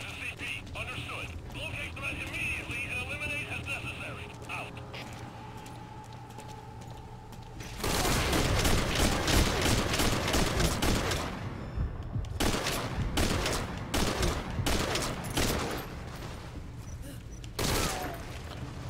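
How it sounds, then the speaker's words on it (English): Gunfire in the video game Metal Gear Solid V: Ground Zeroes, bursts of rapid shots erupting partway through and continuing in clusters, mixed with game voices and ambient sound. "We're hearing gunfire."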